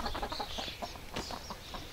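Chickens cluck close by in a quick, uneven run of short calls over a low rumbling background.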